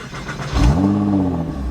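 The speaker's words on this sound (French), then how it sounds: "voilà ce que ça donne, échappement ouvert." A sports car with an open exhaust fires up: a sudden loud crank and bark, then the engine settles into a deep, rumbling idle close by.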